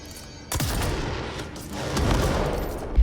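A rocket-launcher-style weapon firing in the video game Control, with a sudden loud blast that rolls into a sustained booming rumble and a second surge toward the end, with no voices.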